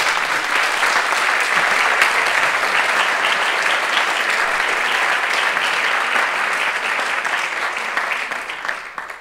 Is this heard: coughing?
no